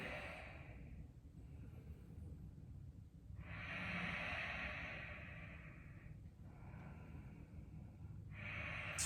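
Slow deep breathing during a yoga session under a full moon, long airy inhales and exhales rising and falling in soft swells, close and fairly quiet, with no talking.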